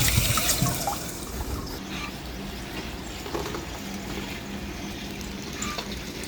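Water poured from a full tank onto a dusty rooftop solar panel, a steady splashing and trickling wash, close by and moderately loud, with a few brief clunks.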